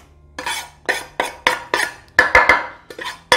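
Garlic and other ingredients for homemade ketchup being dropped and scraped into a cooking dish, producing a steady run of sharp clinks and knocks, close and clear with no talking.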